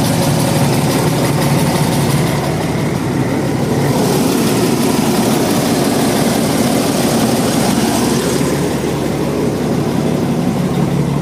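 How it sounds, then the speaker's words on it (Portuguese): A 1975 Scania truck engine idles outdoors on a cold day, a loud, constant low rumble with an even mechanical churn that holds steady throughout. "Vou lá fora para vocês ouvirem o motor."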